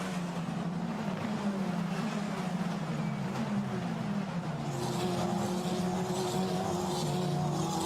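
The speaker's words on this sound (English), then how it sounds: "the Mont Blanc backed car of Lorenzo Colombo, ready to drop downhill" Lorenzo Colombo's Formula Renault Eurocup race car drives at Imola, a steady engine drone holding on, with a higher-pitched engine tone rising toward the end.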